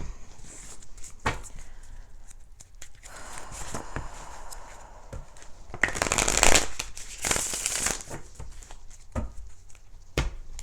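Tarot cards riffle and slide in several bursts, with light taps and handling noises between them, close up and with no voices.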